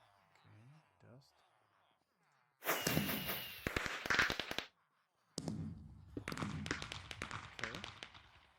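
Custom Minecraft fireworks go off in two dense bursts of sharp crackling pops and bangs, loud and close, separated by a brief silence, with a player talking before the blasts.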